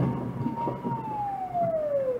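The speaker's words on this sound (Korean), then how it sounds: "사이렌 소리 이제 나네?" A police car siren wails in a single long descending sweep over steady road and engine noise on a riverside road at about 3 a.m., fairly close and clear, with no talking.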